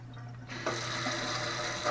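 Kitchen faucet running in spray mode, a steady hissing rush of water that swells louder partway through and continues evenly, close and unaccompanied by speech.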